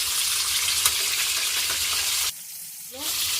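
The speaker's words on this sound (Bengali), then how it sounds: "তারপর আলুগুলো ভেজে নেব" Potatoes fry in hot oil in a pan in a village kitchen after hilsa fish, making a loud, steady sizzle with stirring that drops out briefly, then resumes.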